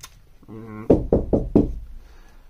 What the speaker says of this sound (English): he knocked loudly on his friend's door